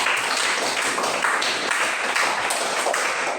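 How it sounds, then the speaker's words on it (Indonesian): A school audience applauds after a student council announcement, steady dense clapping holding at an even level throughout. "tepuk tangan untuk semua"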